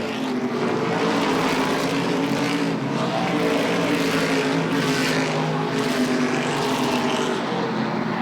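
Race cars roar around Lee USA Speedway on the final lap of an ACT Governor's Cup 100 stock car race, a loud, continuous engine drone with rising and falling surges as the cars pass, steady throughout with no talk.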